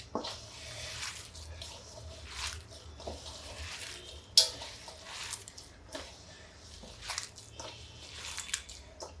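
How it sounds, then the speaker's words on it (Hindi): Wet batter of grated pumpkin, onion and gram flour is stirred and squished by hand for pakoras, with soft intermittent squelches and a few sharper taps against the bowl, fairly faint throughout. "अब ये देखिए, ये प्याज, अब इसको सबको मिक्स करते हैं।"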